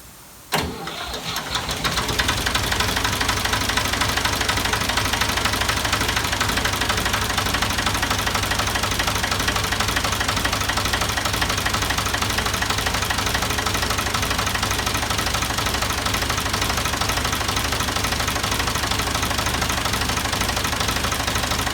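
A Ford 2000 tractor engine, started by jumping the solenoid, cranks briefly and then catches, settling into a loud, steady, knocking diesel idle that runs on without pause.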